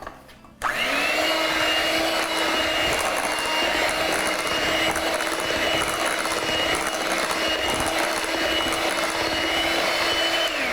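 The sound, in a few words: electric mixer blending cake batter with coconut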